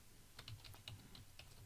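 A computer keyboard is tapped quickly and lightly while a password is entered, with about a dozen soft, evenly spaced key clicks over a faint steady hum.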